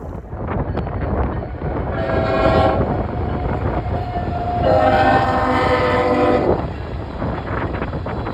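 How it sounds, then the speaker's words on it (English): Northbound crude oil train led by a Canadian National 100th anniversary locomotive south of Tuscola, Illinois, sounding two long horn blasts over the steady rumble and clatter of passing cars. "we catch a northbound crude oil train south of Tuscola, Illinois, with one of Canadian National's iconic 100th anniversary engines in the lead"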